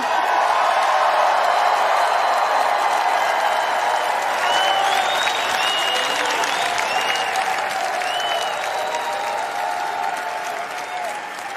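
A tennis crowd at the 2021 US Open, still packed in past two in the morning, gives a sustained roar of applause and cheering that stays dense and loud before easing slightly toward the end.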